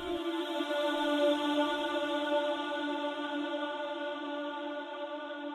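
The Ambience Vox 1 chant sample from an Afrobank pack, repeated within an Afrobeats beat: a smooth, continuous choir-like vocal pad with rich overtones that holds steadily by itself for over five seconds.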